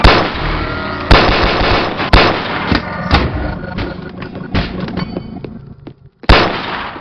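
Gunshots in the VR game BoneLab, a series of sharp, loud, separate shots at irregular intervals of roughly a second, with a closing blast after a short near-silent gap.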